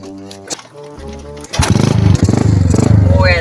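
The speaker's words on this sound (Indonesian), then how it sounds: "Ari ieu motor kon teh hirup." A motorcycle engine sputters and then catches, running loud and rough with fast revving pulses after a few thumps and clatters, close by, with voices around it.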